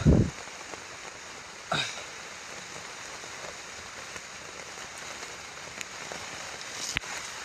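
Heavy rain pours down steadily during a typhoon-like storm, a constant hiss throughout with a brief louder burst near the start and a few sharp knocks, with no talking.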